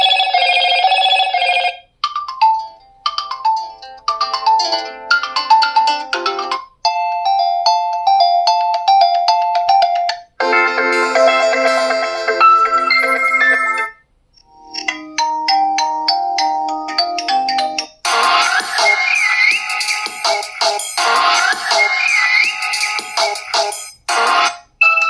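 Motorola Edge 40 Neo with Dolby Atmos stereo speakers playing a sequence of ringtones and chimes, bright electronic tones in short bursts separated by brief silences, loud and close with no talking.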